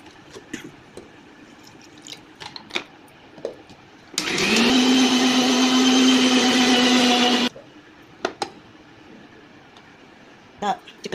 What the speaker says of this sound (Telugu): బియ్యాన్ని మిక్సీ పెట్టుకోవాలి